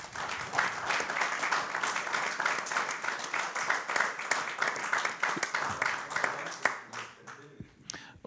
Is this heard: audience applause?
yes